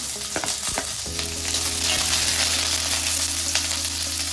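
Onion and chili hit hot oil in a pan, a bright steady sizzle with a few stirring knocks at the start, close and continuous with no talking.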